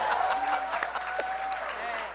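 Steady applause from an audience fills the clip, dense clapping with crowd noise throughout.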